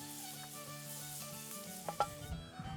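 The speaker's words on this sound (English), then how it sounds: "Browning this meat first will release a lot of the flavors." Salt pork browns in a small batch in a pan, giving a steady close sizzle with a few soft stirring scrapes near the end.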